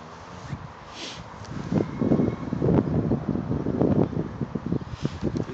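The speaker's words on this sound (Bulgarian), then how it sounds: "Идеален вятър. Не е много силен, не е много слаб." A steady, moderate wind blows while a kite is flown, heard as a soft, gusting rush against the microphone that swells in the middle and stays fairly quiet throughout.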